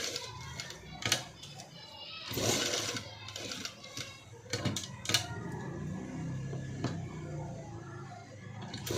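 A sewing machine stitches the neckline of a sleeveless, cut-work, padded designer blouse in a boutique. It runs in short whirring bursts and stops, with quiet voices and children's chatter in the background.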